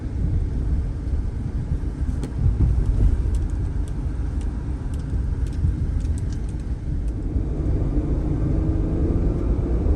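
A car engine held at wide open throttle on a test drive in a stiffly sprung car gives a loud, steady, low rumbling drone that runs unbroken for the whole stretch, with no talk over it.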